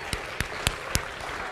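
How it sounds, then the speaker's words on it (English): A few sharp, separate claps from a lecture audience, four evenly spaced hits over a steady room hum, with no swelling round of applause. "Give yourselves a round of applause."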